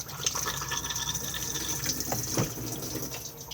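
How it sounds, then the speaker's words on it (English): Cassette toilet flushing aboard a 2021 Benimar Mileo 243 motorhome, a steady rush of water running continuously at close range for a few seconds, with no talk. "push to flush just on the blue button just here"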